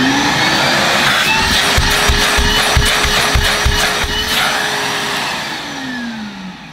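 A Numatic NBV240 cordless vacuum cleaner runs with a steady loud whining drone close by, with faint rhythmic thumps, easing slightly toward the end.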